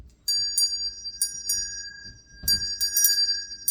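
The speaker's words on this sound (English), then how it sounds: "And then I usually ring a bell." Small bells rung by hand during a tarot card reading, several bright metallic strikes in two clusters, each leaving a clear sustained ringing tone, close and alone with no talk.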